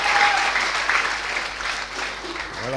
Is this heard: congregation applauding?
yes